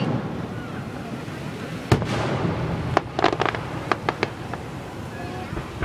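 A sharp Fourth of July firework blast followed by a rapid series of crackling pops and bangs, heard outdoors over a low background murmur.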